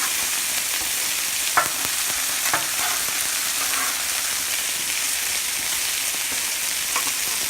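Corn is raked into a pile on a hot grill beside bacon-wrapped pork sirloin steaks, a steady sizzle running throughout with a few sharp scraping clicks and taps at intervals.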